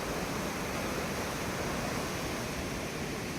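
A rain-swollen stream rushing near the Karumalai Estate waterfall in Valparai, a dense, continuous, loud wash of water noise with no pauses or voices.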